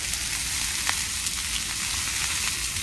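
Pancake batter with chocolate sizzling on a hot breakfast grill, a steady dense crackle and hiss that holds close and constant throughout.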